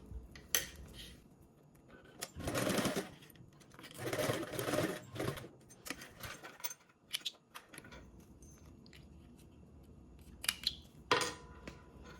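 A sewing machine basting D-rings in place runs in several short bursts of rapid stitching, with pauses, small clicks and fabric handling between runs, close and moderately quiet.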